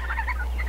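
Turkeys gobble inside a Saskovich-style chicken tractor: one loud, close, warbling gobble that fills the whole short moment.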